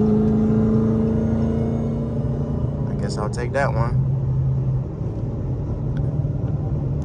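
A 900-horsepower Dodge Charger Hellcat cruising on an Atlanta highway, a steady low engine and road rumble with wind whir, while someone speaks briefly over it partway through.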